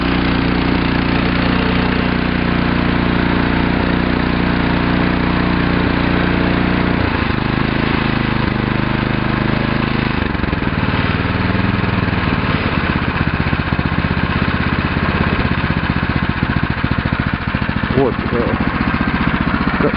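A Hyundai S6560 snowblower with a 6.5-horsepower engine runs loudly after starting, its steady mid-pitched roar shifting in tone partway through, with someone talking over it.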